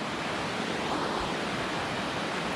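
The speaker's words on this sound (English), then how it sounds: "here is where two of the parts of the two forks of the Snoqualmie River are coming together" Two forks of the Snoqualmie River in Washington meet and flow together, a dense, steady rushing roar of moving water, close and constant throughout.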